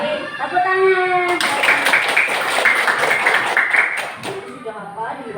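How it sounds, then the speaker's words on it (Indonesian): Classroom group clapping, a burst of many hands applauding together for a few seconds, loud and dense, between bits of children's and a teacher's speech. "Tepuk tangan."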